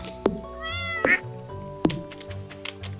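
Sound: cat meowing in Stardew Valley video game

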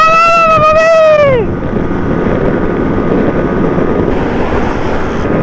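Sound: Benelli motorcycle riding on road

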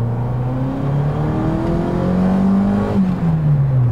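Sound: Ford Escort RS Turbo engine revving near the rev limiter

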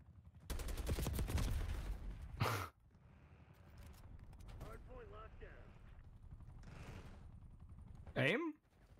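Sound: gunfire in video game Call of Duty

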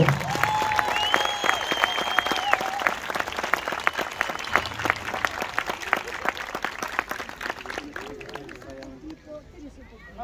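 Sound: loud applause

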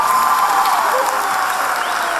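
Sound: audience applause on a TV show

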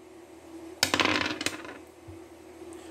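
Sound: dice being rolled

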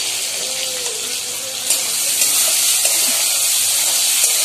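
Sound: potatoes frying in a pan

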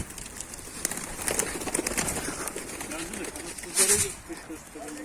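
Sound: domestic pigeons, tumbler pigeon breeds, in flight

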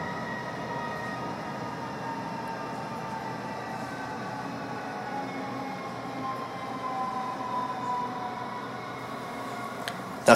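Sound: S-Bahn commuter train running into Mainz main station

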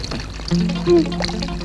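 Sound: water running from a tap

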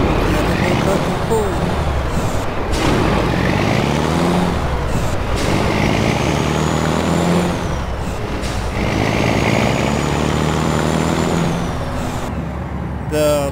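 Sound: International 9800 cabover truck driving, from a video game American Truck Simulator

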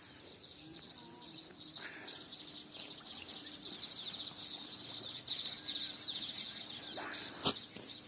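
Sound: birds calling in a farm field

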